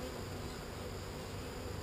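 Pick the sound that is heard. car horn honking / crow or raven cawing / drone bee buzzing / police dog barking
drone bee buzzing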